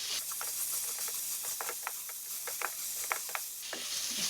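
Spices frying in oil for Kashmiri radish chutney, a steady soft sizzle and hiss with scattered small crackles and pops running throughout.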